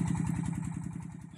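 A borewell water pump engine runs at a farm well with a tractor parked nearby. Its rapid, steady thumping pulse is loud and close, and no one talks over it.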